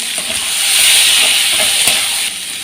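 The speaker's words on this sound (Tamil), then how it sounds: "தக்காளி கொஞ்சம் ஒரு 2 நிமிஷம் வதக்கி அப்புறம் உருளைக்கிழங்கு சேர்த்துக்கலாம்" Tomatoes sauté in a pan for a potato masala to serve with poori, giving a steady, close sizzle and hiss with a few light stirring clicks and scrapes throughout.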